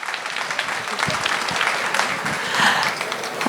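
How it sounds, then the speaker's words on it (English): Loud applause from an audience at the family and friends preview opening of Jayalakshmi Silks' flagship bridal store, dense steady clapping filling the room for a few seconds and swelling slightly near the end. "you can give them a loud round of applause"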